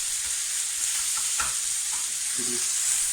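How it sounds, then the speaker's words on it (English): Mince sizzles and crackles steadily in a hot pan, browning for cottage pie, with a few soft scraping stirs. "as you can see, we're frying our mince"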